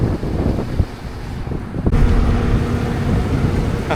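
Three farm irrigation pumps run together while being flushed, making a steady, loud broadband rush of churning water and motor noise that swells slightly partway through, with no talking.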